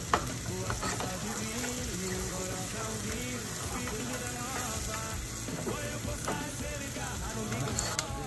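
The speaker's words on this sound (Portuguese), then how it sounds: "Coloca para fritar junto com a cebolinha." Steady, dense sizzling of onion, garlic and scallions frying in a hot pan, with occasional stirring scrapes; continuous and fairly close, no talking.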